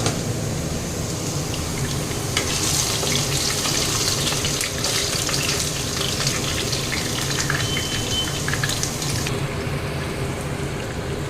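Potatoes frying in a pan, a constant close sizzle and hiss with crackling bursts, steady and fairly loud throughout.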